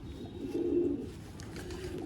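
A pigeon gives a low, soft coo, one rounded call near the start, then quieter murmuring against faint background noise.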